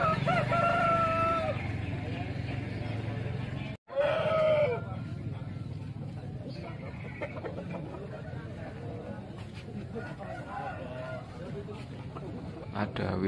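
Young Bangkok Wido roosters at a busy market in Klaten give a long crow, then a short one a few seconds later, both clear above steady crowd chatter and market noise. Someone talks throughout.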